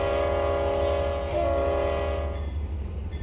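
A freight train in the Trainz (T:ANE) simulator rumbles steadily with a low heavy drone while a horn blows a sustained chord over it, the horn fading out toward the end; no one speaks.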